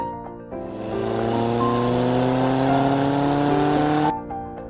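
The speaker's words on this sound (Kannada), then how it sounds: "ಇವಾಗ ನಾವು ಗಾಡಿ ಸ್ಟಾರ್ಟ್ ಮಾಡ್ಕೊಂಡು ಬೇಗ ಡೆಸ್ಟಿನೇಷನ್ಗೆ ಹೋಗೋಣ" A car's engine running and pulling away near Katlekan on a family trip around Honnavar, a steady close engine hum with rising tones as it drives off, then idling quieter at the end.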